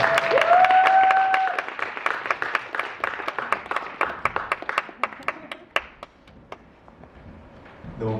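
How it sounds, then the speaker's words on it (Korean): Church congregation clapping to welcome a speaker to the front, a dense burst of applause that thins into scattered individual claps and fades out, with a brief voice at the start. "앞으로 나오실 때 박수로 환영해 주시기 바랍니다."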